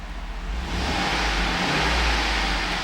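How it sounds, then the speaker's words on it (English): A silver 2009 Chevrolet Suburban LT with a 5.3 liter V8 revs up from a steady run, a loud, close, continuous engine roar with no talking. "I'm going to rev the engine."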